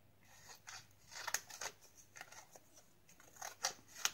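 Scissors snipping through a piece of shimmery glittery material, a series of soft, close crisp cuts in an irregular rhythm, quiet and alone.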